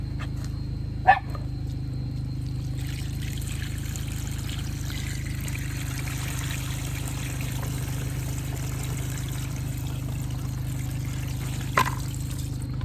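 Water running steadily into a portable RV washing machine at an off-grid property, a constant low rushing flow with a couple of sharp knocks near the start and end.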